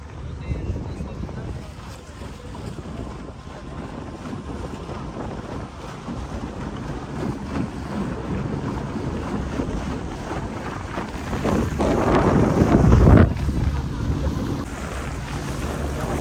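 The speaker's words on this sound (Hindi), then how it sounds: "ये हम लोग बोट पे बैठ के एंजॉय कर रहे हैं" A boat rides on Upper Kachura Lake near Skardu, with a continuous rumble of wind and water buffeting the microphone and a louder surge of splashing and gusts near the end.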